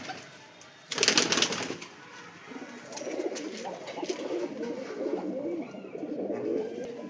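Domestic racing pigeons coo in a busy loft, low rolling calls running steadily after a loud burst of wing flapping and rustling near the start.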